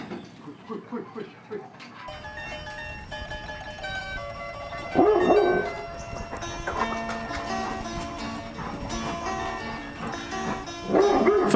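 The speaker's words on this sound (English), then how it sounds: "First, there are dogs, Tietre and Tieto, who demand I play with th" Dogs barking in a Cambodian village in the morning, several sharp barks and yips coming in bursts, with hoof-like clip-clop sounds and music-like tones in the background.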